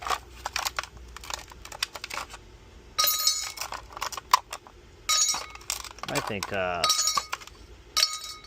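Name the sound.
reusable ice cubes clinking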